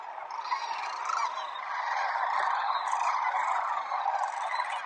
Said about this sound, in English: the birds are making a racket, but not flying yet